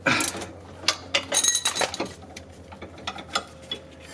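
Repeated ratcheting clicks from tightening a strut bolt during a strut and sway bar end link install on a 2012-2016 Honda CR-V, sounding as irregular close metallic bursts with short pauses between them.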